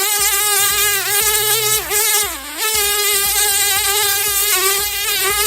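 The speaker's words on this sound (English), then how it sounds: "That's the sound of housefly." A housefly buzzes close and loud, its droning whine wavering in pitch as it swoops and circles, continuous for several seconds with no talking.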